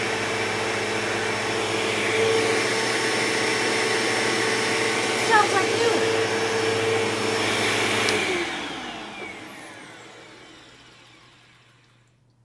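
A Bissell CleanView 2 model 3574 upright vacuum cleaner runs with a steady, fairly quiet whine, then switches off and spins down to silence as a person speaks briefly.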